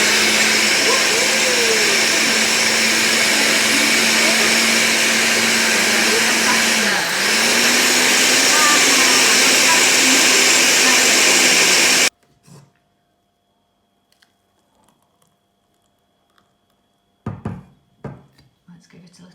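Blender whizzing bananas, melon, strawberries and cloudy apple juice, a loud steady motor whine for about twelve seconds with a brief dip midway, then cutting off to near silence and a few faint clunks.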